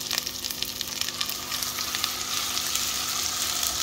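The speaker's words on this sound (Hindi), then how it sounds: "इसको भून लेना है जब तक इसकी खुशबू ना आ जाए।" Chopped ginger and garlic fry in hot oil for a chicken patty filling, a loud, bright continuous sizzle with fine crackling pops throughout.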